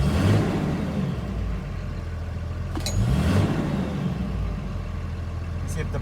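A common-rail Cummins diesel engine rumbles steadily nearby, swelling slightly as the throttle is pressed, with faint talk over it.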